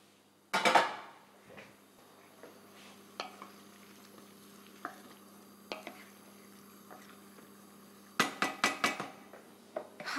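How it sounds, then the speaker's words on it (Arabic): Boiled okra being added to a pot, with soft clatter and stirring at the start, faint drips and light pan sounds through a quiet stretch, then a cluster of sharper utensil and pot knocks near the end. "هلأ بدي أضيف البامية"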